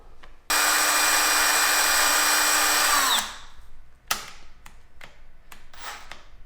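A power drill fitted with a sharp Christmas tree step bit whines loudly and steadily as it bores a hole in a skateboard grom setup, then stops, leaving clicks, taps and handling noises.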